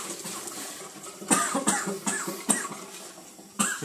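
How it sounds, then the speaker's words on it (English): One person coughs repeatedly at close range, several harsh bursts spaced about a second apart over a quiet background, with no talk. "I do not know why I suddenly started coughing then."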